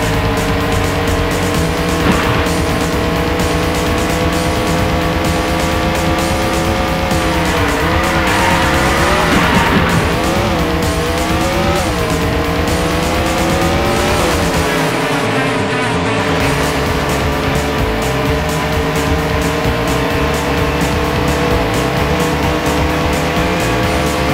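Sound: race cars driving laps in Andretti Racing video game

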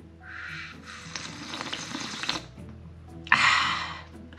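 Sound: water dribbling from a tap

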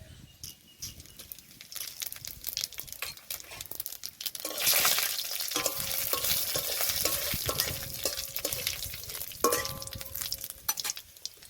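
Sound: whole dried chillies, bay leaf and cumin frying in oil

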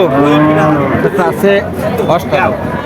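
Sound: cow mooing at cattle market

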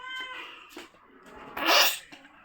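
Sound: cat

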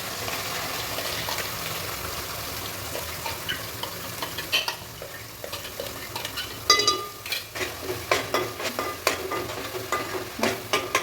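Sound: ground masala paste roasting in oil for chicken curry

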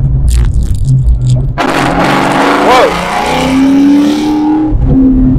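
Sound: Procharged 2004 Mustang Mach 1 accelerating through the gears

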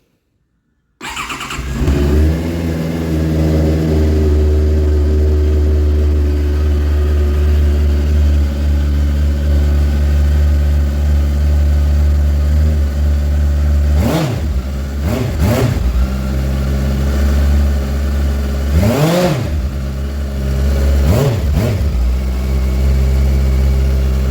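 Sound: motorcycle exhaust idling and revving

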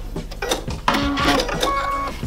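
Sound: sewing machine stitching patchwork fabric strip

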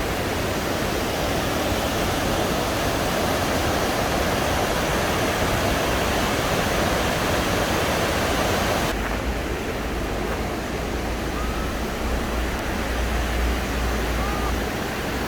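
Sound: waterfall and rushing water in village

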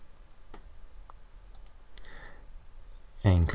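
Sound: computer mouse clicking a button

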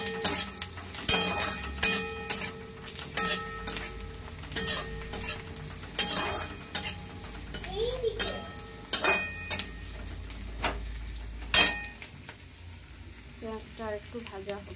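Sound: onion frying and sizzling in a pan

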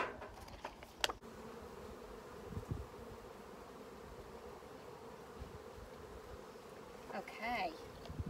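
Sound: bees buzzing at a garden beehive

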